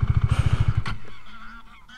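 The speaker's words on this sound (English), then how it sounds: "Hello, ducks." Waterbirds, ducks or seagulls, call near a roadside in Iceland with a quick run of about nine rhythmic honking cries, then fall away into quieter background noise.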